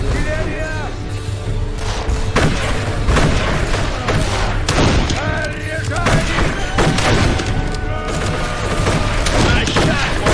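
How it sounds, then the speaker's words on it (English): Repeated artillery blasts and gunfire in the World War 1 video game Darkest of Days form a dense, loud, continuous barrage, with shouted voices heard through it. "Артиллерия!"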